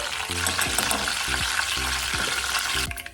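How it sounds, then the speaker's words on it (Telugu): Curry leaves, mustard seeds, cumin and chana dal crackle and sizzle in hot oil as a tempering for a pumpkin curry, a dense steady hiss close by with a few soft stirring scrapes. "ఆయిల్ కొంచెం వేడెక్కాక కరివేపాకు ఆవాలు జీలకర్ర శనగబ్యాలు ఇలా పోపు దినుసులన్నీ వేసేసుకోవాలి"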